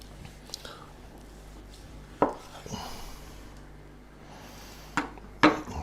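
A knife cutting thin slices from roast beef topside on a board, with scattered clicks and sharp taps of the blade against the wood amid quiet stretches.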